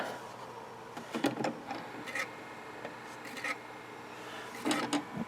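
A stereo turntable's needle rubs and scrapes in short, dry mechanical bursts, coming in irregular clusters close up, with quieter stretches between and no talking.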